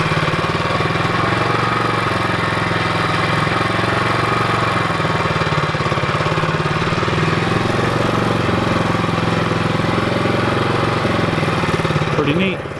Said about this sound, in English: Here's one of the pumps actually in action.